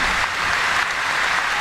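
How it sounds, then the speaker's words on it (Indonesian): Audience at an Indonesian Islamic religious gathering applauds a cleric after his sermon: dense, steady clapping fills the whole stretch at close, even loudness, with no break or voice on top. "Tepuk tangan sekali lagi buat beliau, Kiai Anwar Zahid."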